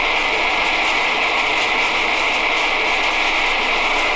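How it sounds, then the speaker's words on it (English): Train running in an Android train simulator game, a steady unbroken rolling rumble with a rattling mechanical texture, loud and constant throughout with no voices. "Big train."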